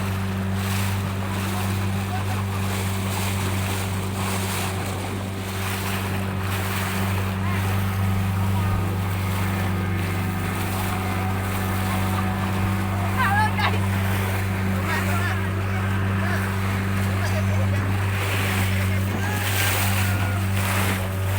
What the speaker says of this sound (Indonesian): Naik speedboat namanya ini ya, speedboat.